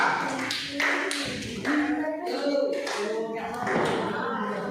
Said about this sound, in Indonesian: Ayo tepuk tangan semua